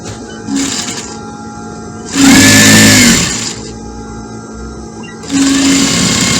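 A sewing machine stitching a jacket of African fabric whirs in short, loud bursts, with pauses of quieter handling between runs.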